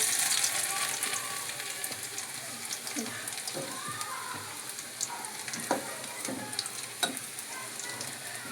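Garlic frying in hot oil in a pan for dhaba-style kadhi pakora hisses with a steady, close sizzle, broken by occasional sharp pops and stirring scrapes.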